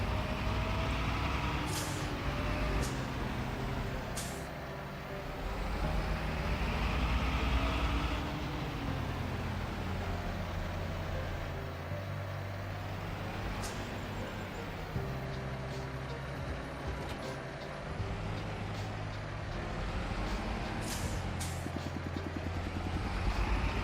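A tractor hauling a harvester header in Farming Simulator 25 drones steadily for the whole stretch, its engine pitch rising and falling in slow sweeps, with a few sharp clicks and hisses over the constant mechanical hum.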